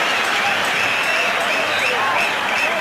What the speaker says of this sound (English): Buzz around the crowd.